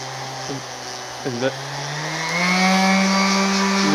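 A Milwaukee M18 cordless 5-inch random orbit sander whirs steadily with a high buzzing hum, then its pitch rises as it speeds up and keeps running at the faster speed.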